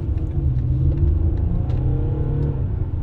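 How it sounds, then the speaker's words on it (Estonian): Volkswagen Touareg with a 210 kW engine accelerating up to highway speed, heard as a steady, close low-pitched engine rumble and road drone inside the cabin, with no talk. "et 210 kilovatine mootor kiirendas meid just täpselt maanteekiiruseni selle väikese ajaga"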